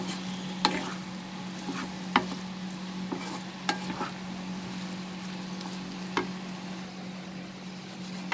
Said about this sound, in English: After mixing the masalas nicely, we will cover this and cook for 2 minutes over medium flame.